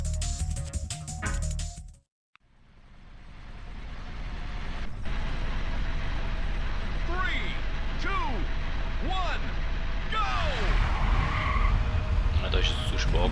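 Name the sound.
car driving and skidding in video game Ridge Racer 64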